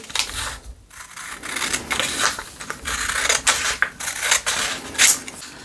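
Scissors snipping through paper along a drawn line while making a finger puppet, a close run of short crisp cuts in uneven bursts with no talking.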